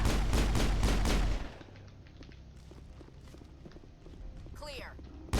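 Gunfire in Mass Effect on Virmire, a rapid loud burst of shots at the start followed by scattered quieter impacts and footsteps, with a voice briefly present.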